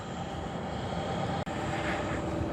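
The engine of a homemade WW1-style airplane, idle in a museum for 13 years and started by rope pull, drones loud and steady with a brief dropout partway through.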